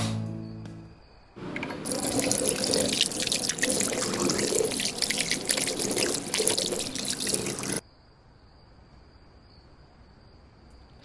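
A tap runs steadily and loudly for about six seconds while someone washes their face at a sink, then cuts off abruptly and leaves a faint background hiss.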